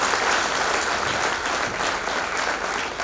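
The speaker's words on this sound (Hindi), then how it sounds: "एक बार जोरदार तालियां हमारी कंपनी के एसेट्स के लिए।" Loud, dense applause from a large audience at a company presentation, a continuous wash of clapping that holds steady with no talk over it.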